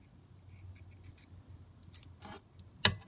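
Scissors trimming a fabric flower embellishment, a few quiet snips and cloth rustles ending in one sharper cut, close and soft.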